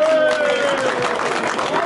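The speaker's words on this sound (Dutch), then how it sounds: "wat mij betreft geven jullie eerst jezelf even een applaus" Participants at an eel-smoking competition applaud together, a dense continuous patter of many hands clapping at close range with a voice carrying over it.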